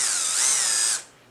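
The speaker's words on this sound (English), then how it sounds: "I'll just take a drill, this is my CXS drill here, and I'll put a small pilot hole" A Festool CXS cordless drill whines loudly as it bores a small pilot hole, its motor pitch wavering briefly before winding down and stopping.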